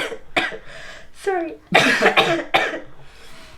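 A woman coughs a few times in quick bursts, close and fairly loud, briefly apologizing between coughs.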